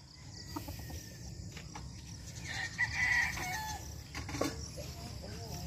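Gamecock roosters and stags crow on a farm, a crow rising clearly near the middle over a constant bed of crickets and insect chirring, with faint background sounds throughout.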